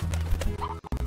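Chickens clucking in the Slime Rancher video game, a short run of soft, close fowl clucks over a steady low game-ambience hum, with brief dropouts near the end.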